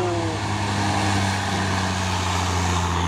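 A convoy of tanker trucks hauling crude palm oil rolls past, a steady heavy diesel drone with low rumbling engine tones holding loud and close throughout, no pauses between vehicles.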